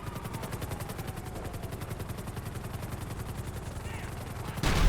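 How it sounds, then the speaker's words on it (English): A helicopter in GTA 5 comes under fire: rapid, evenly spaced thuds of rotor and gunfire in a dense, continuous stream, with a loud burst at the end. "So let's target this helicopter if I can."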